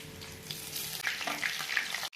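Two bora fritters, made with wheat flour batter, fry together in hot oil, giving a steady broadband sizzle with brief bubbly pops that ends abruptly near the close.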